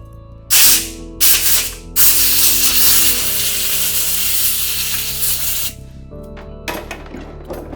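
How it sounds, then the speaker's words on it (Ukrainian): Sharp bursts of compressed air from a compressor blowing dust out of a smoke detector's sensor chamber, hissing loudly, several short blasts followed by a longer continuous spray, with a mechanical hum underneath. "шляхом видування пилу із камери датчика. Для цього використовується компресор."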